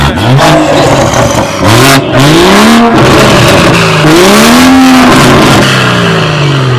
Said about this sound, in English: First burn out, man.